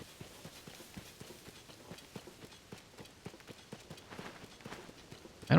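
Horse hooves clip-clopping at a steady running pace in Zelda: Tears of the Kingdom, a regular train of soft, evenly spaced beats at moderate distance with no talk over them.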